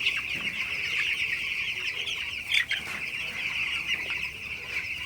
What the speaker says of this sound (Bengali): তো মুরগিগুলো আপনারা দেখতে পাচ্ছেন মাসাল্লাহ খুবই ভালো আছে সুস্থ আছে পানি খাইতেছে সবগুলা মুরগি